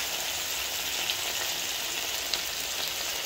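Potatoes frying in a pan, a steady, even sizzle that holds at moderate volume throughout, with a couple of faint clicks.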